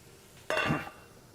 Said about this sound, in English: You're going to hear it sizzle a little bit.